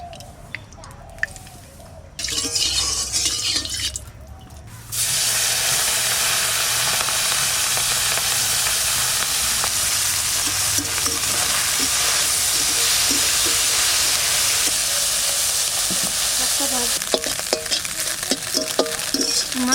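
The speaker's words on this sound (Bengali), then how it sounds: "প্রথমে মাছ কটা ভেজে নেব একটু নুন হলুদ দিয়ে দিই সর্ষের তেল" Small fish frying in mustard oil with salt and turmeric give a loud, steady, close sizzle that runs almost unbroken after a few seconds of quieter handling noises at the start.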